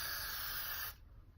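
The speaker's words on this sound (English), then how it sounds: "spray the Got2b glue on the top of the cap" Got2b glue sprayed from an aerosol can onto the top of a bald cap, a short steady hiss that cuts off abruptly.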